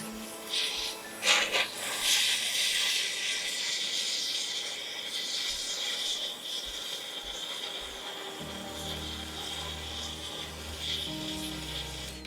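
A kitchen torch caramelizing a layer of sugar on crème brûlée: a steady close hiss and roar of flame that runs almost the whole time, with a few soft clicks and a low rumble toward the end.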